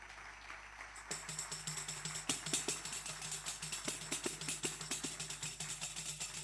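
A concert audience at a traditional music competition breaks into steady applause after a quiet moment, many hands clapping at once and continuing evenly, moderately close.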